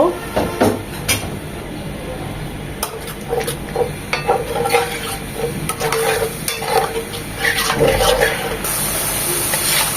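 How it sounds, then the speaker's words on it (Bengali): Bengali spice paste of turmeric, chili and roasted cumin powders is fried and stirred with a little water for a baim eel and radish curry. It makes close, continuous scraping strokes over a steady sizzle, with no talking. "এখন এগুলো একটু পানি দিয়ে মশলাগুলো সব সুন্দর করে কষিয়ে নেব"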